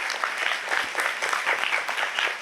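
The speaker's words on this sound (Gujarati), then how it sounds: "આપણે ખૂબ ખૂબ તાળીઓથી આખા ગ્રુપને વધાવી લઈએ." Steady applause from an audience after a devotional singing group's performance, dense clapping sustained and even throughout with no voices above it.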